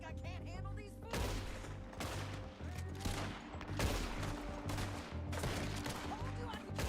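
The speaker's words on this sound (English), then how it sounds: "Told you I could shoot a gun" Gunfire in the Red Dead Redemption 2 video game, a fusillade of repeated sharp shots in irregular bursts, loud and close, with a voice talking briefly among them.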